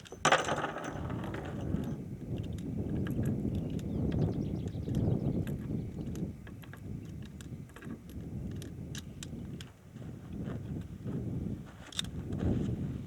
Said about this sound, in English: I'm going to quickly reload.